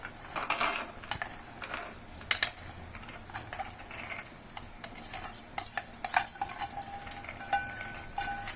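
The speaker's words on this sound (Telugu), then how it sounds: "ఇప్పుడు చట్నీ మిక్స్ చేసుకొద్దామండి." A spoon scrapes and clinks against a bowl of peanut chutney in quick, irregular strokes, close by, with a faint background hum.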